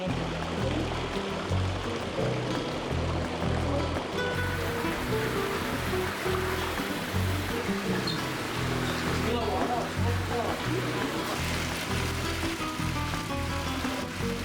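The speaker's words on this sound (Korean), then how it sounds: "진짜 이거 생각보다 물소리가 시원시원하다" Water rushes and splashes steadily from a fountain in a garden in Granada, Spain, a full, continuous wash of sound that stays loud and even throughout.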